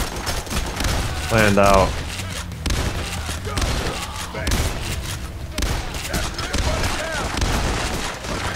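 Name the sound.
gunfire in the video game PAYDAY: The Heist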